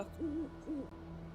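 A toy owl sound button plays two soft hooting calls in quick succession, close and clear, with a low steady hum underneath and no talk.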